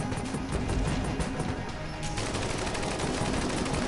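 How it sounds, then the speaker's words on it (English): Rapid bullet fire from the Bullet King boss in Enter the Gungeon, a dense, continuous barrage of crackling shots filling the whole stretch at steady loudness. "He fires bullets like a madman and expects you just to deal with it."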